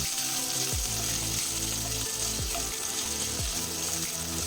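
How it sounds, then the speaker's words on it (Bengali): Cut potatoes fry in oil in a pan over a medium flame, giving a steady, dense sizzle throughout that sits under background music. "কেটে রাখা আলু দিয়ে তেলের সঙ্গে নেড়ে চেড়ে নেব। অল্প পরিমাণ লবণ দিয়ে মিশিয়ে দেব। 2 মিনিট মিডিয়াম ফ্লেমে আলু ভেজে নেব।"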